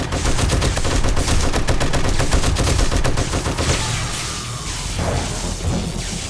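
Rapid automatic gunfire from the survival video game Darkness Falls rattles loudly and densely for about four seconds, then thins out into scattered, fading shots.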